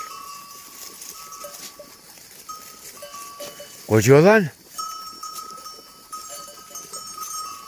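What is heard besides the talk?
flock of sheep with bells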